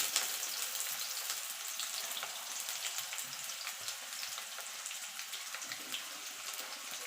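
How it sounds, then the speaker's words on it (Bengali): Potatoes fry in oil with a soft, even sizzle and light crackling that carries on without a break, fairly quiet and with no voices. "আলুটা দিয়ে আলুটা একটু লাল লাল করে ভেজে নেব"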